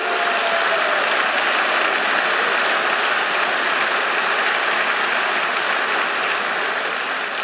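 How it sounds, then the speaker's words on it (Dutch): A large crowd at a party chairmen's congress applauds in a dense, sustained roar of clapping that stays loud and steady throughout, held at the re-election of Tom Van Grieken. "APPLAUS"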